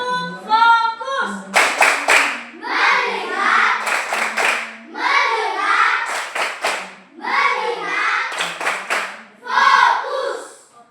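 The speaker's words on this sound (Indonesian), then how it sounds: "ibu ada dulu berdiri untuk kita tepuk fokus" A class of schoolchildren stand and perform a rhythmic clapping chant routine, bursts of loud unison claps alternating with sung or chanted voices in a repeating pattern, close and lively in a classroom.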